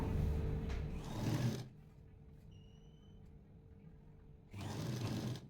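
A sewing machine stitches an elbow puff sleeve in two loud, close whirring bursts, with a quiet pause between them.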